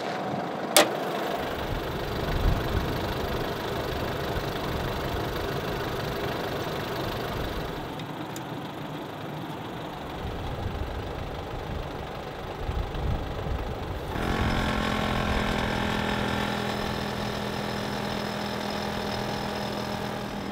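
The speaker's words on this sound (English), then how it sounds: "just while the tyres are pumping up" A vehicle engine idles steadily while tyres are pumped back up to road pressure beside a beach camping trip, a low constant hum with a compressor-like whir, a sharp click near the start and a shift in tone later.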